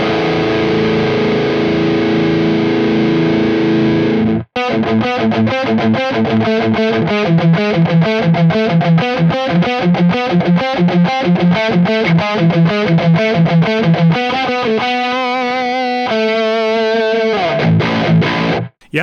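Electric guitar run through a Two Notes Genome rig on a 5150 amplifier model, heavily distorted: a held chord, then fast palm-muted chugging riffs and sustained notes, loud and up close, with no talk.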